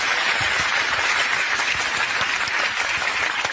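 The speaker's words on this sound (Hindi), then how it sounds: "तालियां।" An audience breaks into steady, dense applause, many hands clapping together at an even level for a few seconds with no voices over it.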